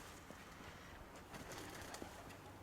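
Soft pigeon cooing at a low level over steady background noise, with a few faint bird calls scattered through.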